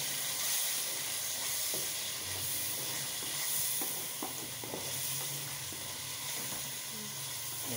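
Ketchup is stirred into macaroni masala in a hot pan, a loud, continuous hissing sizzle with scraping stirs running beneath it throughout.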